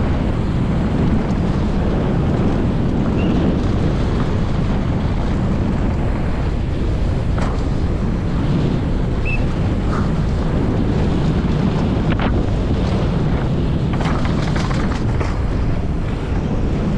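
Headwind buffets the microphone during a fast downhill mountain bike run on the Snow Summit course, a loud continuous low rumble with gusting surges and occasional rattles from the ride.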